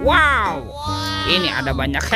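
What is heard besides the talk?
No everyday noise stands out behind the speech.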